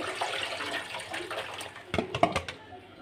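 Pangas fish pieces are washed in water, with continuous close splashing and running water, then a few sharper sloshes and clunks of handling near the end.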